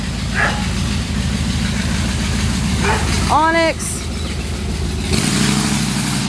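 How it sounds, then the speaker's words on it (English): A vehicle engine rumbles steadily nearby in a garden while a person calls out briefly; a rising whine and a louder surge mark the truck passing on the road. "There's a car coming by. I'm going to let them pass because it's going to be loud"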